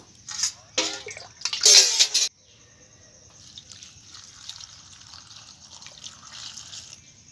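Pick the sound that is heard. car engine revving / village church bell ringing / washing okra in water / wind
washing okra in water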